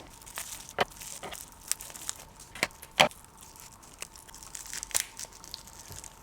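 Packaging around a 2018 one-ounce Antique Finish Libertad coin is cut and pulled open, heard as sparse, sharp plastic snips and crinkles with quiet handling between them, close and soft overall.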